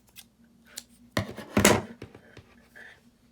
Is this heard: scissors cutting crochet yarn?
yes